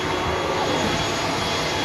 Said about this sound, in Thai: เครื่องบินจะเป็นเครื่องบินใบพัดนะทุกคน